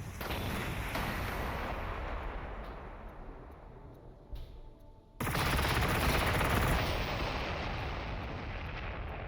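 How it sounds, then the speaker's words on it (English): A missile strike lands in Warhammer 40,000: Gladius as a dense, rumbling barrage of explosions that rolls on, briefly dips, then surges back loud and sustained. "Let's have the missiles go ahead and hit you."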